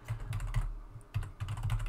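Rapid clattering keystrokes on a computer keyboard entering a terminal command for a C++ course homework on a lab machine, close and steady in short bursts with a brief pause midway, no talking.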